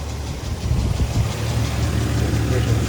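Steady low rumble of a 1993 Toyota Land Cruiser FZJ75 Troopy with a 1FZ-F 24-valve inline-six idling cold inside an enclosed building, even and close throughout.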